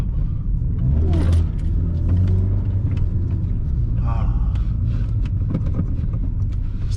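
Stage 2 tuned Mark 6 Golf GTI with manual gearbox accelerating hard, a loud deep engine rumble rising under gear changes, with someone talking excitedly over it.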